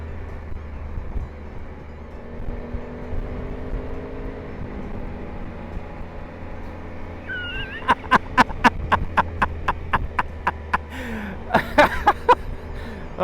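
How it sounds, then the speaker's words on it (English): A motorcycle's engine rumbles low and steady at first, then breaks into a rapid series of sharp revving pops and bursts, repeated in quick succession, as the bike rides through a tunnel on Skyline Drive. "The obligatory rev bomb."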